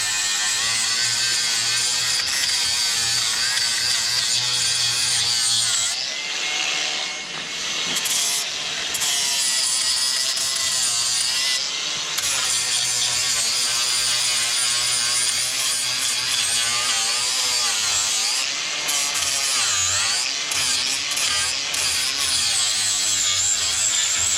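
An angle grinder cleans up the welds on a trailer with a loud, continuous abrasive whine that shifts in pitch as the disc bites. It eases briefly partway through, then keeps going without anyone speaking.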